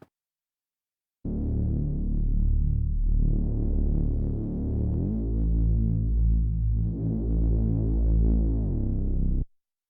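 Synth effect layer in the second half of an EDM trance drop: a heavy, throbbing low sustained tone with pulsing texture, loud and alone, starting abruptly after a second of silence and stopping sharply near the end.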